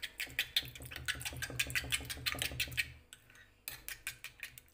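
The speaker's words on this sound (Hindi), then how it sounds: "अब हम इसको अच्छे से फेंट लेंगे" Seasoned egg mixture with chili powder being whisked briskly in a bowl for an omelette, rapid rhythmic metallic clicks of the whisk against the bowl's sides, with a short pause before the beating resumes, close and clear.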